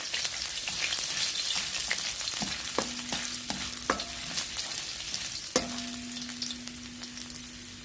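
Ginger and garlic fry in a thick frying pan with a continuous hissing sizzle, while a spoon taps the pan in a quick run of knocks and then one firmer clack.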